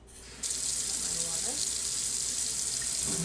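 Tap water gushes into a sink while a face mask is rinsed under the spigot, a steady loud hiss that starts abruptly and runs on with faint handling sounds and no talking.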